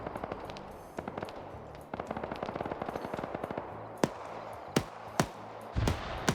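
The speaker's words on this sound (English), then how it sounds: "Now, I don't get why the BMP is shooting" A BMP armoured vehicle firing its gun in a military video game, rapid bursts of automatic fire followed by several sharp, isolated loud cracks, close and punchy over background rumble.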